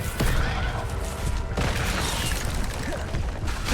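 Confringo explosive spells in the Hogwarts Legacy video game go off as sharp blasts, two strong bursts about a second apart amid ongoing combat clatter and crashes.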